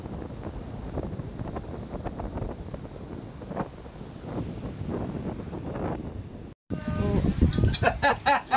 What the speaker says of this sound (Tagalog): Sana po yung marinig ninyo sa sobrang lakas ng hangin